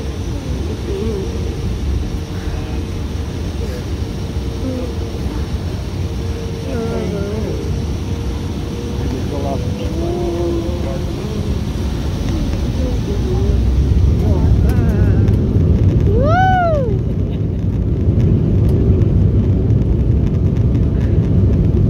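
Loud, steady airplane cabin roar during a flight between airports, a broad low rumble that swells louder partway through, with a brief rising whine near the end and faint voices at times.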